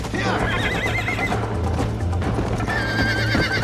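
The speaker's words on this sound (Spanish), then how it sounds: "este es un caballo todo traidor" A horse in the Red Dead Redemption video game whinnies loudly twice, its wavering neigh rising over clip-clopping hooves and steady game background noise.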